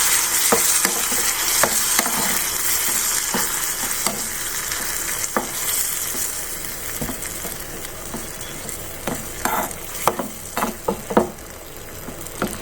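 Fresh set curd thinned with a little water being stirred into green chillies frying in a pan: a continuous hiss of sizzling with scattered scraping clicks from the stirring spoon, close and steady, getting busier toward the end.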